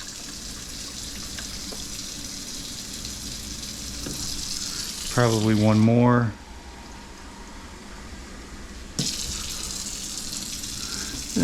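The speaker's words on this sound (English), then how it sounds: "we're gonna fill it with water" Water poured into the reservoir of a Saeco espresso machine, a continuous splashing hiss close by, briefly interrupted by a short spoken remark, then pausing before the pouring resumes.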